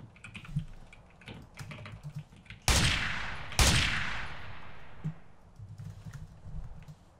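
Two sharp, loud gunshots ring out about a second apart, each trailing off in a long echoing decay, over a low rumbling background in MTA: San Andreas DayZ, a multiplayer survival mod of the San Andreas video game.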